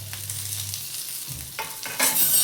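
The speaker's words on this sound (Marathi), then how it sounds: "टोमॅटो पण ह्याच्यामध्ये चांगलं भाजून घ्यायचं आहे. हाय फ्लेम करायचं नाही, लो फ्लेमवरच सगळं भाजायचं आहे." Tomatoes, onion and fresh coconut fry on low flame in a pan, giving a gentle sizzle with brief stirring scrapes that swell into louder frying near the end.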